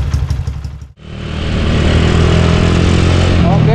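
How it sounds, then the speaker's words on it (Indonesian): Modified motorcycle engine with an aftermarket camshaft, a rough loping idle that drops out for an instant, then swells into a loud, sustained close-up rev. "jadi kita cobain motornya"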